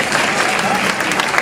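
Continuous applause from a concert audience in Amantea fills the whole stretch at a steady, dense level, crowd clapping close and loud with no pause.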